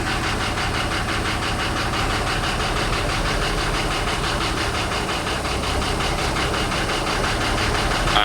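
A 1940s Scammell Pioneer lorry engine runs close by with a steady, loud, knocking mechanical clatter and no pauses.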